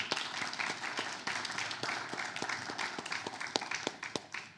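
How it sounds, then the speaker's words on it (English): Audience applause for presenters at a community meeting on water and sewage services in Island Lake, Manitoba, with sparse, distinct claps standing out over a steady wash of clapping. "Could we all just give them a round of applause?"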